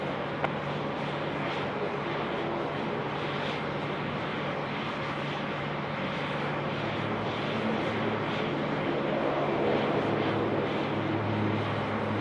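An aircraft landing on runway 34 left at Sydney Airport makes a continuous distant engine rumble, steady and fairly loud throughout with a slight swell near the end and no talking.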